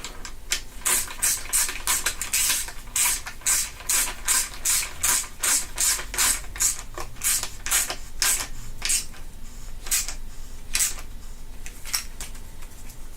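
A ratchet clicks in quick, rhythmic bursts while tightening parts on a 1.8T engine build, with close, sharp pawl clicks repeating steadily under near silence.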